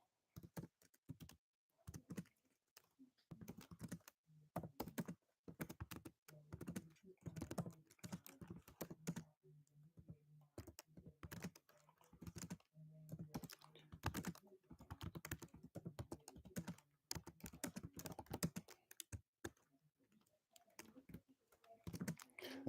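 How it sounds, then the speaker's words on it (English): Quiet, rapid computer keyboard typing clatters in irregular bursts with short pauses between runs of keystrokes, close by and without talk. "I'm typing in there"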